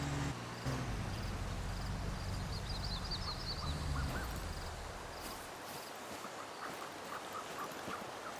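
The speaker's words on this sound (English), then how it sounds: "I hear the ducks, but I don't see them." Ducks quack from the ambience of a fishing game, small nasal calls at a moderate distance, scattered over a steady bed of water and outdoor noise with no talk.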